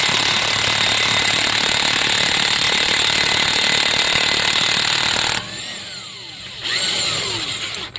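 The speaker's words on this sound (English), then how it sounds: "I'm going to use this guy here, my electric impact wrench" Electric impact wrench hammers loud and continuous on a 27 mm bolt of a 2004 Mercedes C320 4Matic, then briefly drops to a lighter whir before rattling again.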